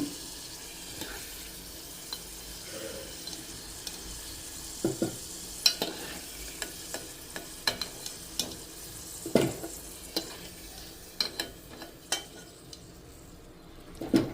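Indian gooseberries (amla) fry on low heat with a quiet, even sizzle, while frequent clinks and taps of a utensil against the pan come through louder and more often toward the end. No speech.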